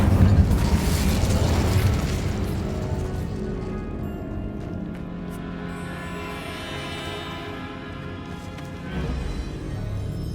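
Incendio fire spell cast in Hogwarts Legacy, a loud sustained whooshing roar of flame with rumbling low end and crackling bursts, continuous throughout with a slight swell near the end.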